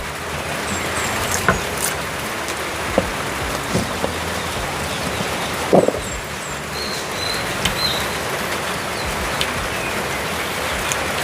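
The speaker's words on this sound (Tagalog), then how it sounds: "Wala na naman tigil yung ulan, mga kabayan." Steady rain falls in the mountains, a dense, even hiss with scattered louder drops, close and constant, with faint bird calls now and then.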